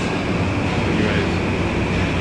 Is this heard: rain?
no